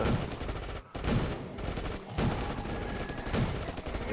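A gun turret in the game State of Survival fires rapid bursts of automatic gunfire, loud and close, with brief pauses between volleys.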